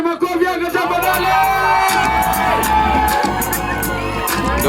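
A crowd at a 4x4 off-road challenge race in Oloosirkon, Kajiado cheers and whoops loudly, with shouts and music blending into a dense, continuous roar close by.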